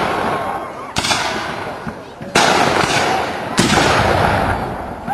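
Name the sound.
cannon fire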